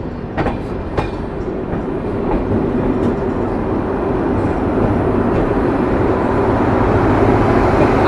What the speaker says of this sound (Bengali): আমরা অবশেষে এই ট্রেনের প্রথম stoppage new Jalpaiguri junction rail স্টেশনে ঢুকছি